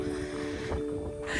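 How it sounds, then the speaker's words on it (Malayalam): Wind at a misty hilltop viewpoint in Kakkur, Kozhikode, a steady dull rush buffeting the microphone over a faint constant hum, brief and without speech. "നല്ല കാറ്റുണ്ട് കേട്ടോ."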